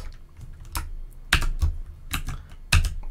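Someone types Java code on a computer keyboard, with close, irregular clicking keystrokes and a few louder, heavier presses spread across the few seconds, no voice over it.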